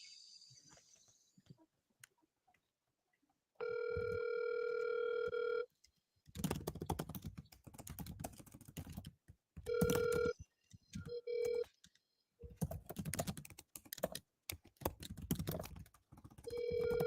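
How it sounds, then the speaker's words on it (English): Outgoing call ringback tone sounds in several long, steady bursts with gaps between, close and clear, alongside some keyboard clicks and faint background noise. "Okay, it's ringing."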